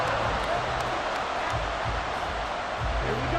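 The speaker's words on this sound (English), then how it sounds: "this crowd is making an impact right now" Stadium crowd roar in Madden NFL 24, a loud continuous wall of noise with faint thumps and cheering swells, with a voice talking over it.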